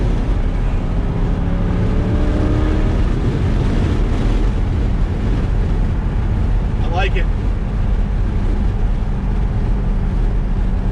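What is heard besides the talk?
Chevrolet C8 Corvette with aftermarket AWE exhaust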